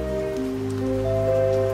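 Rain falls through dark woods as an audiobook sound effect, a dense steady patter layered under a low sustained droning tone, loud and continuous with no voice.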